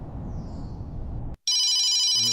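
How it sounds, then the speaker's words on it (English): After a low rumbling passage and a brief silence, a telephone starts ringing loudly and steadily with a bright electronic tone. "Please answer the phone."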